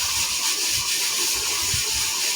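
Steady hissing blast of steam from a pressure cooker on a high gas flame while ghee rice cooks; the whistle is close and continuous throughout, with no talk over it.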